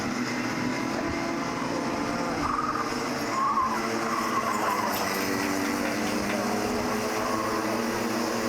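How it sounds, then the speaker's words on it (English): Micro Max race karts brake late and hard into turn one at Zwartkops during a 2021 SARMC race, with engines droning and tires squealing at a distance under continuous track noise. "Some very late and hard braking coming down here into this turn one."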